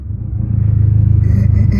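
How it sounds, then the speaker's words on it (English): A Dodge SRT4's engine rumbles deeply and steadily up close, with a few small pops and crackles near the end. "You hear a little bit of a popping there."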